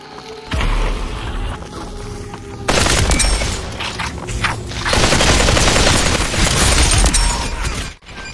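Dense, loud bursts of video game gunfire and explosions rattle almost continuously, close and harsh, with a brief drop near the end and no clear talk over it.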